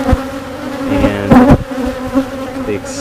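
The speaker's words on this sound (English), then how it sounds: "Bees just love the camera" Honey bees buzz steadily around an open hive during a routine inspection, a close, continuous droning hum with individual insects swelling louder as they pass near, and a brief spoken word in the middle.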